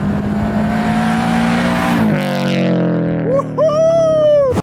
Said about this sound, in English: We'll do a few revs with the stock intake filter